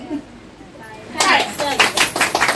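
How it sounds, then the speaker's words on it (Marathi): An audience claps at a small Marathi-speaking gathering: after a quiet start with a few voices, scattered clapping breaks out and continues in uneven bursts to the end. "टाळ्या"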